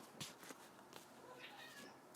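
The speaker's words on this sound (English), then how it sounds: "I don't know if you all can hear my cat meowing" A pet cat meows faintly a few times in a quiet room, brief soft calls in the background with no speech over them.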